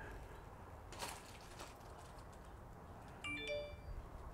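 A two-note ding-dong chime from an X-Sense smart video doorbell sounds once after a quiet stretch, clear against faint room noise.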